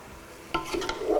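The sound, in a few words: stirring glass noodles in a pan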